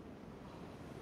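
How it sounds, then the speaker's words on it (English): Wind gusts outdoors push steadily into the microphone during a session of splitting wood by hand with a maul, making a constant low rumbling roar with no pauses or talk. "It got real windy on me all of a sudden"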